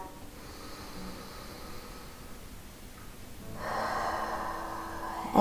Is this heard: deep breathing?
yes